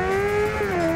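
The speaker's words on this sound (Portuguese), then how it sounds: "Vou fazer um burnout aqui pra esperar esse povo." A Honda CB650F motorcycle doing a burnout, its engine holding a loud, steady high rev with a slight pitch dip midway, tire noise blended underneath.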